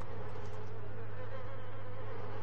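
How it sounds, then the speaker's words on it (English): Bees buzz in the video game Little Nightmares II, a continuous dense droning hum that holds steady and loud throughout with no pauses. "Those are bees down there, aren't they?"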